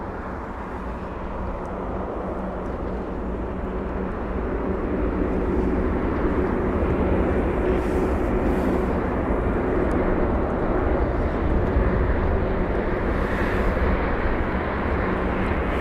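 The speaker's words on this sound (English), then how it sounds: "That's the A220 for you, rotating in absolutely no time." An Airbus A220 jet taking off at London Heathrow, a broad, loud engine roar that holds steady and swells slightly as the aircraft climbs away, with no talking over it.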